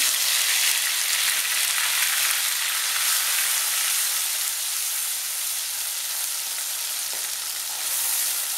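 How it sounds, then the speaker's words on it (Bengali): Onion paste frying in a pan for a Bengali matar paneer curry, a loud, steady, close hiss of sizzling oil that continues unbroken throughout. "পেঁয়াজটা 2 মিনিট ভাজবো"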